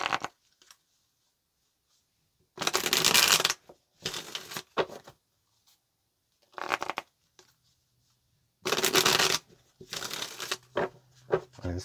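Tarot cards being shuffled up close in repeated riffling bursts of a second or so, separated by quiet pauses and softer handling clicks.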